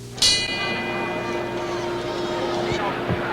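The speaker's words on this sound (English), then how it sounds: "And now the bell for round 6." A boxing ring bell rings to open round 6 of the Ali–Frazier II fight, one sharp strike with a long ringing decay, heard under steady crowd hubbub and commentary.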